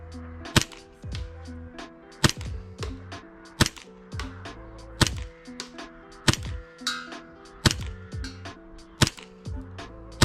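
Custom Hi Capa airsoft pistol firing BBs at a target: about nine sharp, loud cracks at uneven intervals, each with a brief metallic ring and rattle, over a background of steady tones.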